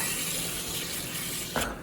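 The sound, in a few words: water filling microgreen tray from the bottom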